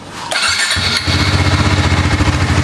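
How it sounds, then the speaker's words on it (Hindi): A motorcycle engine, due for home servicing after 15,000 km, is started close by: a short cranking whir, then a loud catch settling into a steady, rapidly pulsing idle, with no talk. "अभी हम लोग इंजन स्टार्ट करेंगे 10 मिनट के लिए"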